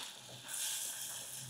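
Tomato, garlic, onion and green chili sautéing in oil, a soft steady sizzle that swells slightly halfway through, fairly quiet and alone.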